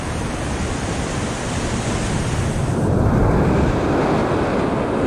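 Ocean surf breaks steadily on a rocky shore at Linapacan, Palawan, during ultralight fishing, a dense continuous wash of waves that swells louder midway, with wind rumbling across the microphone and no voices.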